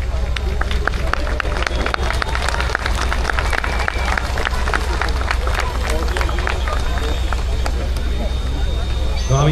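Audience clapping at Rendez 2025, a car show presentation, with steady, dense applause and crowd noise holding at an even level, close and sustained for the whole stretch.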